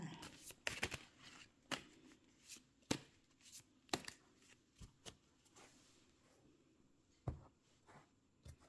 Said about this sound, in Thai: ขอเป็นตัวแทนสับไพ่ตัดไพ่คนเกิดวันจันทร์ค่ะ